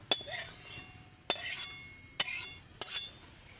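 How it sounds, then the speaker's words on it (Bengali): A spoon clinks against a bowl while stirring a fried curry-leaf tempering into chutney for idli: four sharp, close metallic taps with short ringing tails, spaced about a second apart, with no talking. "চামচ দিয়ে ভালো করে মিশিয়ে দেব"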